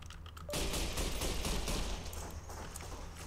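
Sustained gunfire in the Fallout: New Vegas video game, a dense, loud barrage of rapid shots that starts about half a second in and continues throughout.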